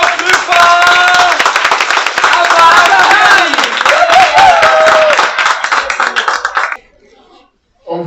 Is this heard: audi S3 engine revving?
no